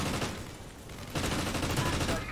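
Dense gunfire and grenade blasts crackle through a Call of Duty Ghosts firefight, loud and continuous with a brief dip before another heavy burst of shooting and explosions.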